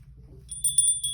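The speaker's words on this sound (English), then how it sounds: "So this is complete, so we can ring the bell." A small bell rung once or twice on a table during a cash-stuffing savings session, giving a brief, bright, thin ring over a quiet room hum.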